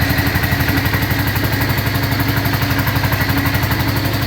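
A Cub Cadet 125 Hydro garden tractor engine runs at a steady idle, a close, even, rapid chugging pulse with a slight clatter, alone with no talk.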